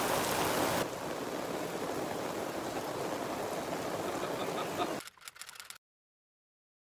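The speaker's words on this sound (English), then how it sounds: "Lunchtime and it's absolutely chucking it down." Heavy rain pours down at lunchtime at a festival in Slovenia, a dense steady hiss for about five seconds before it cuts off abruptly into silence.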